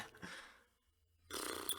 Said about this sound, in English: you want to move on to the next topic before I just keep burping?